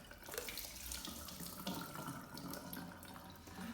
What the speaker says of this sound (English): So I'm gonna remove that water.